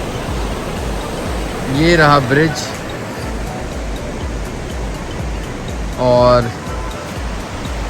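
A river rushing below a bridge near Kalimath, a constant broadband roar of flowing water throughout, with someone speaking briefly over it twice.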